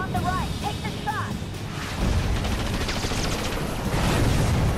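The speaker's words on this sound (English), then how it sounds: "Ventilate everything. Captain America on the right. Take the shot." Gunfire in the PS3 game Marvel Ultimate Alliance 2: dense, rattling volleys of shots mixed with other game effects, fairly loud and continuous, growing heavier toward the end.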